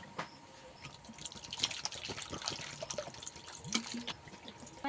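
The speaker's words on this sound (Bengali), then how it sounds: "আলুটাকে ধুয়ে সেদ্ধ করতে বসিয়ে দেব।" Chopped potatoes are washed in water, making irregular splashes, drips and trickles, close and fairly quiet, with no talking over them.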